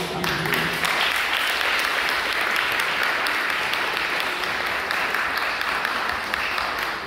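Sustained audience applause fills a community council meeting room, a dense steady clapping from many hands that continues evenly throughout, loud and close, with no talk over it.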